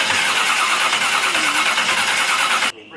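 A 1960 Holden FB Wagon engine cranks and catches, a loud, close, churning roar that runs about two and a half seconds before cutting off abruptly, with no voices.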